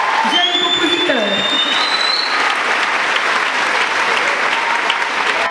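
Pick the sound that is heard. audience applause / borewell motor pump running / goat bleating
audience applause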